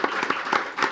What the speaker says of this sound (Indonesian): Kasih tepuk tangan buat Pak Dedi.